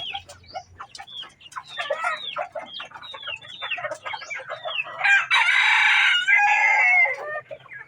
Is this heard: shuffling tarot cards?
no